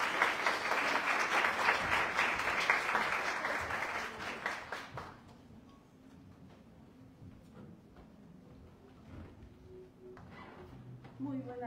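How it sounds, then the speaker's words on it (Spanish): An audience at a book presentation claps, a dense burst of applause that fades out after about five seconds, leaving quiet room sounds, shuffling and a few faint voices. "les voy a pedir un gran aplauso para Mauge García"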